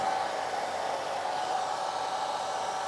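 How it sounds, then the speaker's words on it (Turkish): A hair dryer blows steadily with its outlet covered by a hand, making an even, close whooshing hiss with a faint whine and no breaks. "Fönü elimle kapatacağım."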